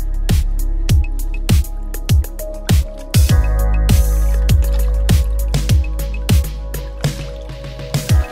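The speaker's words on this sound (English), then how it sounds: "you're gonna wanna pre-soak your shoes in hot water." Shoes soaking in hot water give off a steady run of wet squishing drips, about two per second, loud and close.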